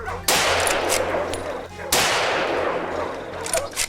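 A rifle fires at a wild boar in a pine forest: two loud, sharp shots about a second and a half apart, each cracking and then echoing away.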